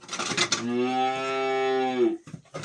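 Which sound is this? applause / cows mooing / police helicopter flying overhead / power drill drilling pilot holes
cows mooing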